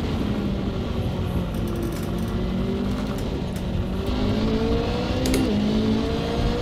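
A race car engine drones steadily in Assetto Corsa at Monza during a night race, its pitch climbing and shifting through gears, loud and continuous with no talk.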